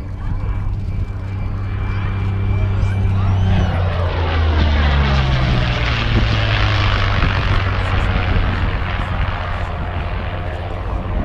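A propeller-driven warbirds-era aircraft flies past at the Southport Airshow, its engine drone loud and steady throughout, rising and shifting in pitch as it passes overhead, with no speech.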